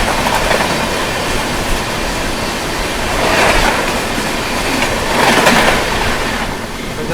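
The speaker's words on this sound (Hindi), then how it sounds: "सामने से आ रही है खजुराहो भोपाल महामना सुपरफास्ट एक्सप्रेस" The Khajuraho–Bhopal Mahamana Superfast Express runs past on the crossing track, a loud, continuous roar of rolling wheels with rhythmic clickety-clack surges as coaches go by close at hand.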